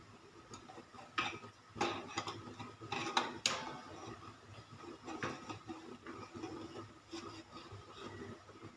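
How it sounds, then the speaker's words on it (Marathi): Rice flour being stirred and roasted in a pan for chakli dough: a close metal spatula scrapes and taps the pan in scattered bursts, with no talking. "पूर्ण पीठ आता खालीवर परतून घेऊया"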